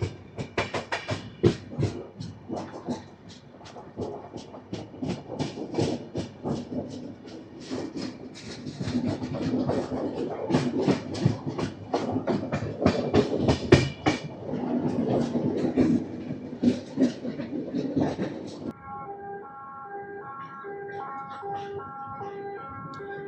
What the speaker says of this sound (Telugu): గానాపూర్ స్టేషన్లో 1 minute హాల్ట్ తర్వాత మన ట్రైన్ అయితే స్టార్ట్ అయిపోయింది